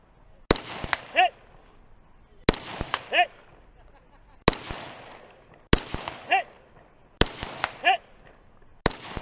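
Rifle shots on a competition shooting stage with targets, sharp loud cracks fired in quick pairs and triplets, groups repeating about every two seconds, with metallic ringing from steel targets after them.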